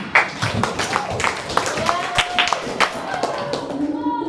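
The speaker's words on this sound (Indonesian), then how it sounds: "Tepuk tangan untuk Nirwana." Students in an Indonesian classroom clap for a classmate, a short burst of close hand claps and taps mixed with voices talking over it.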